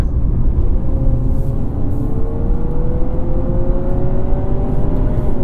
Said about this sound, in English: you can hear the annoying active sound control that they have, where they pipe in fake noise